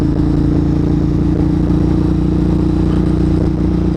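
A motorcycle cruises steadily at about 40 mph on a road, its engine drone loud, continuous and close, with wind and road noise throughout and no pauses.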